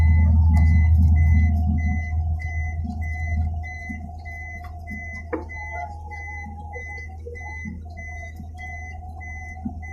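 A heavy truck idles and maneuvers at a quarry backfill site, its low engine rumble loudest at first then easing, with a steady series of reversing beeps repeating throughout.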